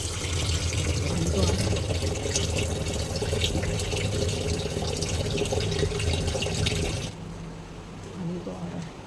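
Water rushes steadily into a washing machine drum at home, a full, close gushing flow that suddenly drops away near the end, leaving a quieter trickle.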